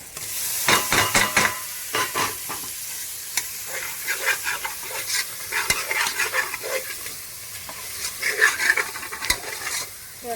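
Chopped tomatoes sauté and sizzle in a pan with coriander and mint for prawn biryani, under a steady frying hiss broken by sharp, close scrapes and knocks of a stirring spoon; nobody speaks.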